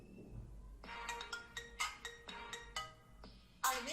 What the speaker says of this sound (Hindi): हमारा जो रिंगटोन था बन के रेडी हो चुका है